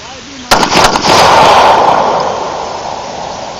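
A pistol fired after a slow four-step combat draw, with one sharp loud shot and a rapid burst of follow-up reports, then a long ringing echo that fades away with no talk.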